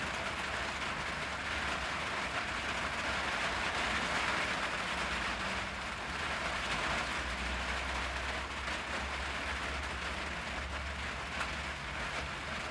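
Steady rain pours continuously, a dense even hiss with a low rumble underneath, filling the whole stretch with no pauses and no voices.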